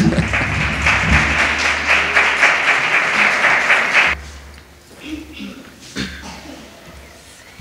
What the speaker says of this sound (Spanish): a lo mejor está fuera de, de, protocolo que pida un aplauso en una iglesia